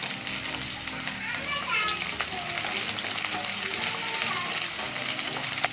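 Chopped onions dropped into hot oil for Karnataka-style spicy tomato chutney, giving a continuous bright frying sizzle with stirring, while voices and children chatter in the background.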